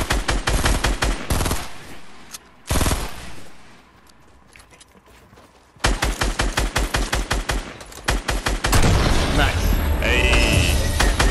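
Rapid bursts of automatic gunfire from the Fortnite video game, loud, dense volleys separated by a few quiet gaps, with a sustained stretch of firing near the end and talk mixed in.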